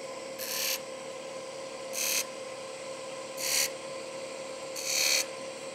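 A wood-turning lathe runs with a steady hum while a pencil marks guide lines on the spinning wood in four evenly spaced rasping strokes, each about half a second long and close by.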